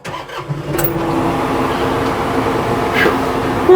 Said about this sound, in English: Start this tractor back up.